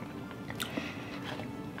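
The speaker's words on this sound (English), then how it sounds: "You can hear the crunch, right?" Crunching bites and chewing of small, salted, fry-shaped Japanese snacks, close to the mic, with a few sharp crunch bursts over steady mouth noise.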